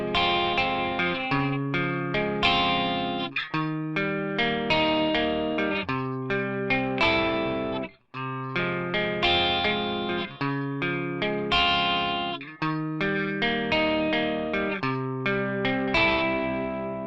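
Clean electric guitar section of a song played with effects such as chorus and echo, a repeating rhythmic pattern of bright chords and notes at moderate volume, briefly pausing midway before resuming.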